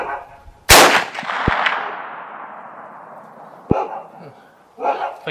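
A single loud, close 45-70 rifle shot fired at an outdoor target range, its sharp crack followed by a long rolling echo that fades over several seconds, with faint handling knocks afterward.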